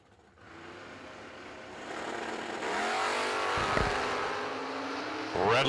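A Camaro and a wagon accelerate hard off the line at a drag-racing event. Engine roar builds and rises, a sharp burst of revving sits near the middle, and a fresh surge comes at the end, heard from a moderate distance.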